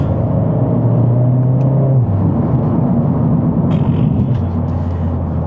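A Mercedes-AMG A45 S fitted with a RaceChip tuning box accelerates on a motorway, its loud, steady engine drone rising in pitch and then shifting down after a gear change, heard from inside the car.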